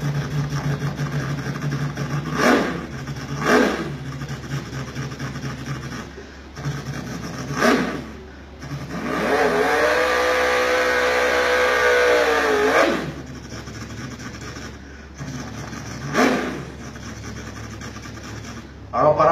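A man imitates an eight-cylinder car engine with his mouth, making long revving swells that rise and fall, with a sustained high-revving stretch in the middle, close and loud, and with short bursts of talk between the imitations.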